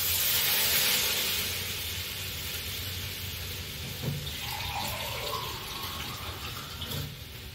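A glass of water is poured into a cooking pan in a home kitchen while making breakfast uppama. A hissing rush of water at the start settles into a softer splash and gurgle, with no talk.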